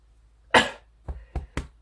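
One sharp, close cough followed by three shorter, softer coughs in quick succession, in an otherwise quiet room.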